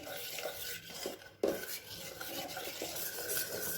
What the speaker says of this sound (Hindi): तो अब हम गैस पर ये भगोनी चढ़ाएंगे और इसे मीडियम फ्लेम पर लगातार चलाते हुए पकाएंगे